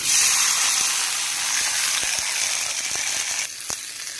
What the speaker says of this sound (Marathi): आता आपण ती गरम तव्यावर ठेवणार आहोत.